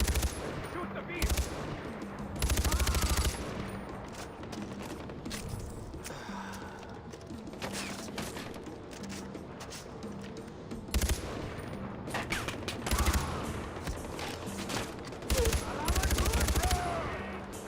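Bursts of automatic gunfire and single shots in Far Cry 4, coming in repeated loud rattling volleys with short gaps between them across the whole stretch.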